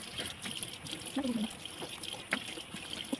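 Water splashing and trickling as a face mask is rinsed off, soft intermittent splashes and drips fairly close, with faint background sounds.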